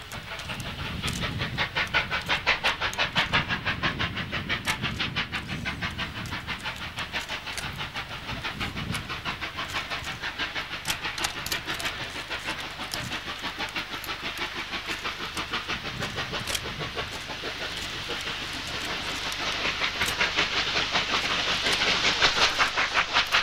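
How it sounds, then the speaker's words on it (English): Steam locomotive 3801 running in parallel with Victorian broad gauge locos R766 and K183 between Kilmore and Seymour, a dense continuous roar of rapid exhaust beats and rail clatter, swelling louder toward the end, with no voices. "3801 parallels in spectacular fashion with Victorian broad gauge locos R766 and K183 between Kilmore and Seymour"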